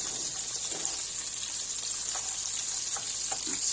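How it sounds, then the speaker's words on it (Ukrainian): A steady hiss of meat and buckwheat cutlets sizzling in a hot pan, constant and close, with a few faint clinks and bumps underneath. "Так що я їх смажу, підсмажую, повертаються вони дуже гарно."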